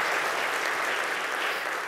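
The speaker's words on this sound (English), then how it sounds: "You deserve a round of applause, too." Steady, dense audience applause fills the room at a talk event, a continuous wash of clapping with no voices over it.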